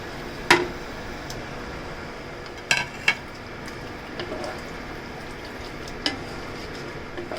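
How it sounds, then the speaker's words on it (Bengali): Marinated goat meat tipped into a pan for a spicy goat curry, with a few sharp metal clanks of a utensil against the pan over a low steady background, the clatter spaced out and fairly close. "খাসির মাংস যে ম্যারিনেট করে রেখেছিলাম আধা ঘন্টা, এখন এটাকে ঢেলে দিচ্ছি"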